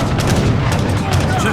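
Gunfire during an Age of Empires III battle, a dense, continuous crackle of musket and cannon shots layered with loud booming, heard steadily throughout.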